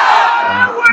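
A large crowd of single men at a religious mahfil gathering in Satkhira, Bangladesh, shouting a takbir together in one loud, sustained collective cry close by.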